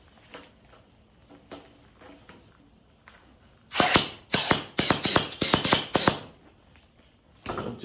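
Air being hand-pumped into a dirt bike's inner tube during a motocross tire change: about eight quick, loud, hissing pump strokes in a rhythmic burst, then a pause, one more stroke starting at the end.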